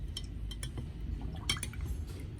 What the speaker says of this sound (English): I give it another gentle stir to ensure any remaining nutrients settled at the bottom are fully dissolved.